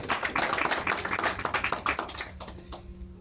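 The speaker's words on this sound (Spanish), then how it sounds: "Dale un aplauso al Señor por eso" A church congregation breaks into loud, dense applause during a Spanish-language sermon, a sustained wash of many hands clapping at once that tapers off toward the end.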